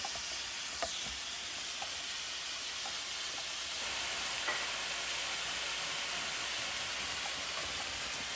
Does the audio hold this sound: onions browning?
yes